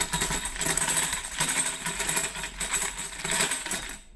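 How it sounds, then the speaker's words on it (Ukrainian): A Korean-made tambourine shakes continuously, its bright metallic jingles rattling in an uneven rhythm close by, with no voices. "Такий тамбурін і ось такий тамбурін корейського виробництва."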